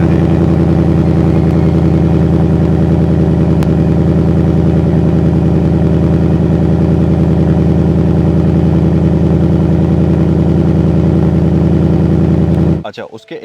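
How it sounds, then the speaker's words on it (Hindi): A large American muscle car engine idles steadily with a deep, loud, even rumble close by for several seconds before cutting off abruptly at the end. "इस गाड़ी का स्टार्टअप भी आपको दिखाते हैं"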